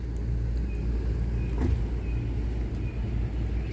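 A 1999 Mercedes S500 Grand Edition with a freshly resealed, degreased engine idles steadily, a smooth continuous low rumble at close range, with no voices.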